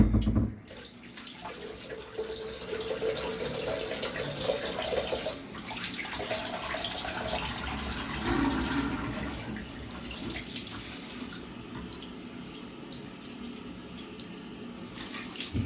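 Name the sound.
running tap water while rinsing off after a shave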